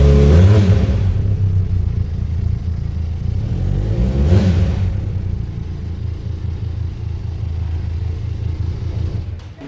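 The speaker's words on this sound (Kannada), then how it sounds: "ಈಗ ನಿಮಗೆ ನಾನು ಎಕ್ಸಾಸ್ಟ್ ತೋರಿಸ್ತೇನೆ ಸೌಂಡ್ ಹೇಗಿದೆ" A motorcycle's exhaust revs loudly up close, surging at the start and again around the middle before settling into a steady rumbling idle, with no talking.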